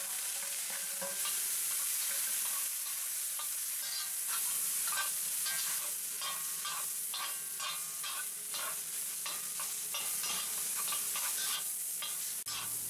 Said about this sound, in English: First, we sear the tuna, stir-frying it for a few minutes until the tuna is dry and more solid.